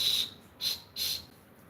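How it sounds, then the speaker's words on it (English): A small survival-kit whistle is blown in three short, shrill toots close by, the first longest, with brief quiet gaps between and no talking. "This has a whistle."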